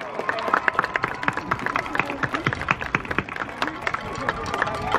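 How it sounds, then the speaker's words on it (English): Audience applause at the 2021 Little Rock High School graduation ceremony, a dense patter of many hands clapping steadily throughout, moderately loud with some crowd noise mixed in. "let's give Hazel another round of applause."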